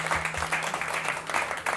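Steady applause from a club audience at an orchestra performance, a continuous wash of clapping with a faint voice underneath.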